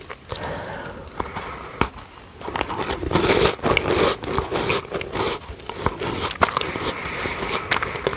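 Close crunchy biting and chewing of a thin, long Viennese finger biscuit with a chocolate middle, crisp crackles repeating steadily over several seconds with no talking.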